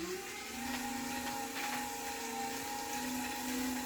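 A pedal-driven spin bike generator running steadily under a protective cover, giving a continuous whirring hum with sustained tonal whine, close and even throughout with no talk.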